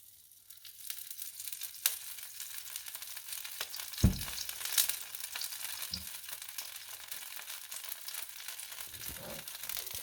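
Oil sizzling and frying on a hot pan while making dosa, a steady broadband crackle throughout with a few louder pops and clinks, no talking.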